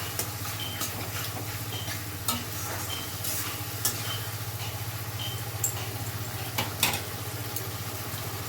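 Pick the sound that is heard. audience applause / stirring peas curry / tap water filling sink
stirring peas curry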